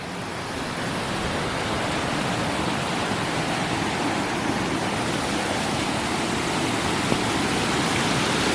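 Stream of water flowing down from a waterfall at Daringbadi, a steady broadband rush that holds even and continuous throughout, close and loud with no voices.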